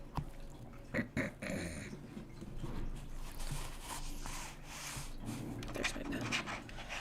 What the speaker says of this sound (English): puppies. They're so cute.